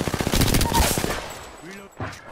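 Video game gunfire while under attack, a fast burst of automatic shots up close that cuts off after about a second, followed by a brief voice.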